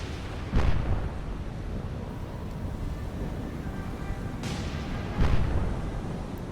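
Ship's deck guns firing under manual control at a surfacing submarine in a naval war game, two deep booming reports several seconds apart over a steady rumble of engine and sea noise.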